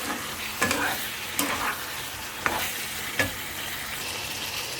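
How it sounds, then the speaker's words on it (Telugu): Green chilli pieces and curry leaves stirred into mutton curry frying in a pan, steady close sizzling with four distinct scraping stirs spaced about a second apart. "మనం కోసి పెట్టుకున్న పచ్చిమిరపకాయ ముక్కలు, కరివేపాకు వేసి కలుపుదామండి."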